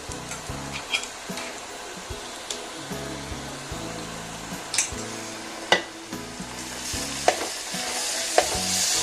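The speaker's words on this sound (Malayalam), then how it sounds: "അപ്പോൾ വെളുത്തുള്ളി ഇഞ്ചി പേസ്റ്റ് ഇട്ട് നമുക്കൊന്ന് വഴറ്റി കൊടുക്കാം" Garlic-ginger paste sautéing with onions and curry leaves in a pan for a home-style chicken curry: a steady, close sizzle broken by regular scraping, stirring knocks and clinks, with no talking.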